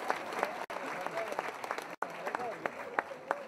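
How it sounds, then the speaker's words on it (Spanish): A crowd claps continuously, a dense patter of applause with a few scattered cheers and voices mixed in, somewhat distant. "¡Fuerte aplauso!"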